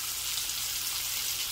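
Pork chops sizzle in a frying pan, a steady, even hiss of frying fat that holds at one level throughout, with no talk over it.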